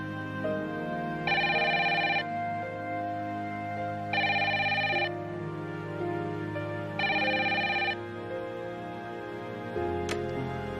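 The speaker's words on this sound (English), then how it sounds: "Come on, answer the phone." A telephone rings three times in evenly spaced bursts of a bright electronic trill, near and clear over a steady background hum, then a short click.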